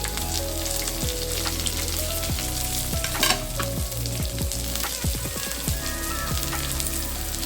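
Garlic, shallots, green chillies and curry leaves sautéing in a little oil for Kerala-style green chilli rasam, a close, busy sizzle with frequent spatula scrapes and clicks throughout, with no talk.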